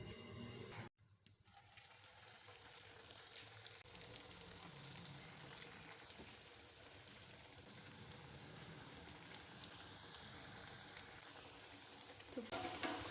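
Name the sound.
vegetable snacks frying in hot oil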